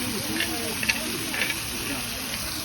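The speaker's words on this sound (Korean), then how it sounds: "김치 이렇게 굽는 거지" Kimchi grilling in oil on a pan at an outdoor valley outing, a steady close sizzle and hiss with faint bursts of voices nearby.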